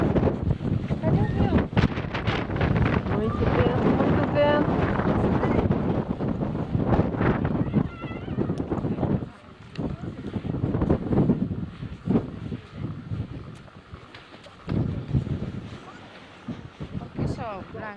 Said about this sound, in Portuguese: Muito vento, muito vento.